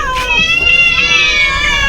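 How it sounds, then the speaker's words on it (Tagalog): Cats meow loudly and close by in long, wavering, overlapping cries. "Hala, grabe yung mga pusa."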